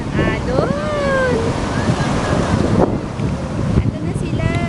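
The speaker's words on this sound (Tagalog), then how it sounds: "Ang lakas ng alon." Strong ocean waves surge and wash over a rocky beach at low tide, a loud continuous roar mixed with heavy wind buffeting the microphone, while people talk over it.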